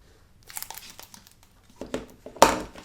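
Thin card stock folded over and pressed flat with glue, giving soft crinkles and rubbing strokes that build to a sharp, close crackle near the end, with no talking.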